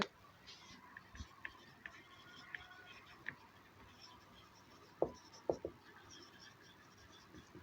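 Pen scratching on paper while a trigonometry solution is written, faint and intermittent small strokes and taps, with a few sharper ticks near the end in a quiet room.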